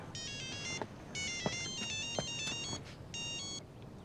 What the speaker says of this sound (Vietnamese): Con Bích tới nghe điện thoại coi của ai